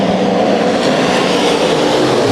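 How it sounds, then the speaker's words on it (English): Modified race cars roaring around Santa Maria Speedway in a heat race, a loud steady engine drone filling the whole stretch with no pauses. "This is a racy heat race in heat number 1 for the Modifieds"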